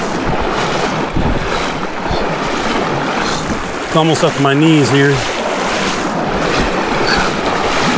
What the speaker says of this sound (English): we're getting into some quick moving water here